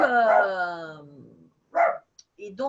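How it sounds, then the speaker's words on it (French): A dog gives a drawn-out whining bark followed by a few shorter yips and barks, close and fairly loud, in a quiet room. "Ah, mais le mien, il aboie"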